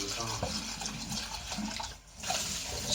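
Tap water rinsing soaked sprouting seeds for parrots, a close steady splashing rush that briefly drops out before resuming, with a voice talking over it.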